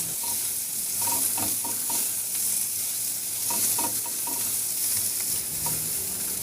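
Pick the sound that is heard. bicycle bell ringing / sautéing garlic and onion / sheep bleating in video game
sautéing garlic and onion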